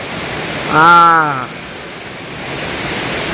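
A waterfall beside the Jangleshwar Shiva temple gives a steady broadband rush throughout the clip. A voice briefly cuts in near the start.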